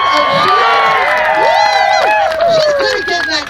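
Crowd cheering at a Renaissance faire sword fight, a loud, close roar of shouting and whooping voices with high excited calls rising and falling, some clapping underneath.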